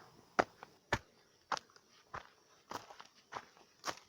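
Footsteps of someone walking in an animation, about seven soft, evenly spaced steps, faint and close with quiet gaps between them.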